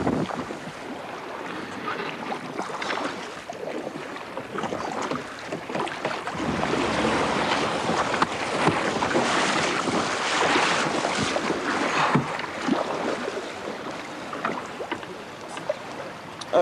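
Fast-moving river water rushes past during canoe slalom training through a sequence of gates, a loud continuous churning roar with splashes throughout and no voices.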